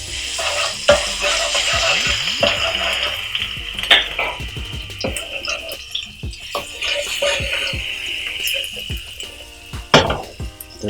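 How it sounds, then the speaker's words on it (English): Garlic sautéing in cooking oil over medium heat for fried rice, a steady close sizzle under repeated clinking spatula strokes against the pan, busy and fairly loud. "Make sure you are on a medium heat because we need to saute the veggies. I'll start with the garlic."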